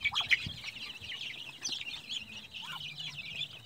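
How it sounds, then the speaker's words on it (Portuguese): Chicks of various ages, small and larger, peep in a brooding pen with ducks nearby, a scatter of thin high chirps and a few clucks, moderately close and uneven in rhythm. "Aqui tem pinto de variedade aí, várias idades aí"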